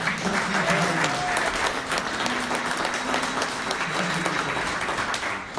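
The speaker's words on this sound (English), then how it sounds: "would you give our sound man a great round of applause?" An audience at a live music performance space applauds the sound engineer, a sustained wave of many hands clapping, moderately loud, with a few faint voices and cheers mixed in underneath.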